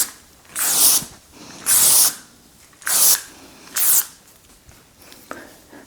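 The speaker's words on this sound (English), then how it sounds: "run the dry texture spray through it" Redken dry texture spray misted into hair in four bursts of about a second each, loud and close with short pauses between them, then one faint final puff.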